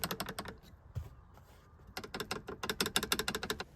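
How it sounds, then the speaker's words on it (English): Rapid rattling clicks from two worn latches on the bottom of a car seat knocking against worn floor brackets, coming in quick bursts with a short pause in between, close and fairly crisp. "the parts that are rattling are these two latches on the bottom of the seat"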